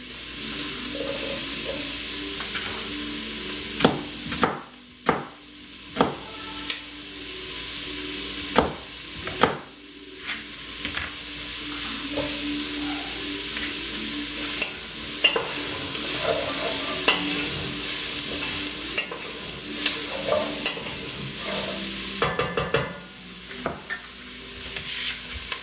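Beef for a homemade stew sizzling and caramelizing in a pan, a steady bright frying hiss broken by repeated scraping stirs and clacks of a utensil against the pan.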